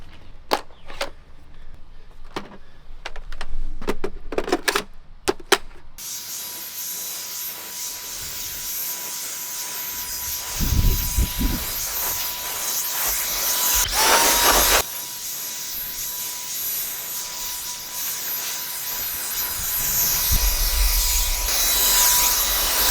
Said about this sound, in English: I'm going to put it in the blower. Now it's time to do some blowing.